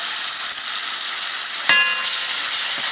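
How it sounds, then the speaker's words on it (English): Cooked beans tipped into a hot pot for Haitian-style cornmeal with beans, giving a sudden hiss and sizzle over a steady frying background, with a faint clink partway through. "what I will do is take my beans and put them in here."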